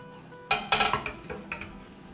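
Utensil scraping and clinking against a metal tray while spreading thick, grainy besan mohanthal mixture to smooth it out, a few close, bright metallic scrapes and taps in quick succession.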